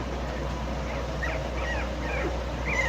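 A young puppy whimpers softly in a few brief, high, thin cries over a steady background hum, with faint talk nearby.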